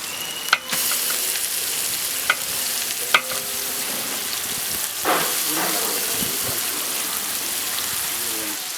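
Onions sizzle in hot oil for veg biryani with coriander and mint stirred in, a loud steady frying hiss broken by sharp scrapes and clacks of the spoon against the pan.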